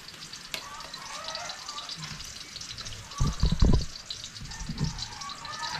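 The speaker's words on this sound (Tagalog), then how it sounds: "imikos-mikos lang natin to hanggang sa maano siya, magkulay brown" Chopped garlic sizzles steadily in a hot pan while being stirred until golden brown, with a brief burst of louder scraping and clatter midway and no talking.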